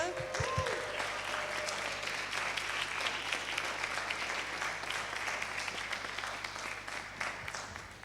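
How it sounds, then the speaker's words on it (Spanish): A crowd at a health event awards session applauds steadily for several seconds, the dense clapping slowly fading, with a brief thump at the start. "Un aplauso."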